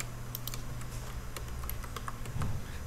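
Computer keyboard typing clatters in quick, light clicks, a short burst of keystrokes ending with a firmer press of Enter, close and quiet against a faint background hum.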